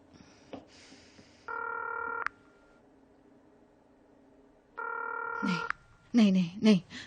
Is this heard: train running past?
no